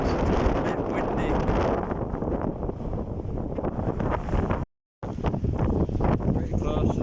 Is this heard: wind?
yes